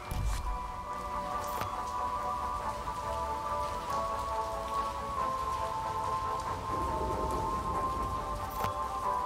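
Rain falling in the video game Circus Electrique: a steady, even patter of drops on a surface throughout, with a sustained tonal drone underneath and no speech.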